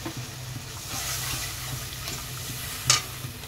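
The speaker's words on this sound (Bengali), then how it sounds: "এরপরে গ্রেভির জন্য জল দিয়ে দেবো" Water poured into a pan of frying spice masala for a vegetable kofta curry gives a steady, moderate sizzle with soft stirring, a brief louder splash near the end, no voices.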